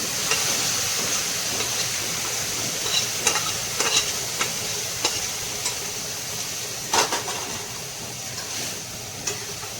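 Steady sizzle of oil frying in a pan while five or seven pieces are added to a Bengali dish cooked alongside a dal with five greens, close and continuous, with occasional scrapes and stirring clicks and no talk.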